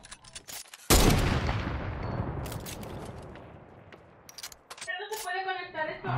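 Video game gunfire aimed at a tree, a sharp loud blast followed by a long decaying rumble and further scattered shots, with people talking over it.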